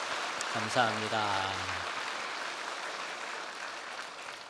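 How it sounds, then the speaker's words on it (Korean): A church congregation applauds to encourage members with disabilities, a soft, steady wash of distant clapping running on after a short spoken thank-you. "우리 모두 장애인 교우들을 위해서 우리 박수로 한번 격려하도록 하겠습니다"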